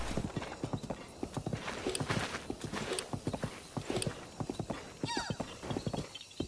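A horse ridden across open terrain in the video game Breath of the Wild, its hooves clip-clopping in a steady, close rhythm, with a whinny near the end.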